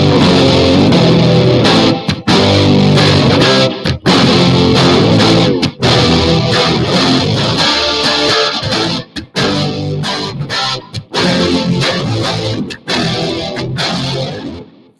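An electric guitar runs through a harmonizer effect, with octave doubling over chord and melody lines. The phrases are loud and sustained, with short gaps between them.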